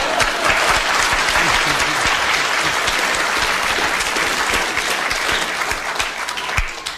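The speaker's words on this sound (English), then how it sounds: "You have received your round of applause." A studio audience at a comedy panel game claps in a sustained, dense round of applause, fairly loud and steady for several seconds before thinning slightly at the end.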